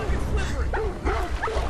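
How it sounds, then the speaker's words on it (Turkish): A dog in the Beyond Two Souls video game barks and yips in short, close bursts, mixed with whimpers and loud overlapping speech in Turkish. "Köpek geldi."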